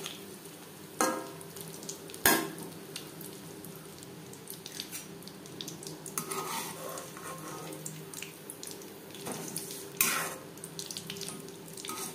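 Egg chops fry in hot oil with a steady sizzle that runs throughout. A few sharp clinks and scrapes of a utensil stand out against it.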